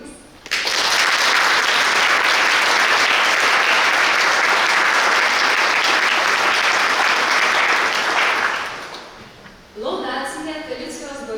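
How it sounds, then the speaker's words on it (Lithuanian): A hall audience claps loudly for prize laureates, a thick continuous burst that fades out after about eight seconds before a voice starts speaking. "labai noriu pakviesti pasveikinti laureatus plojimais"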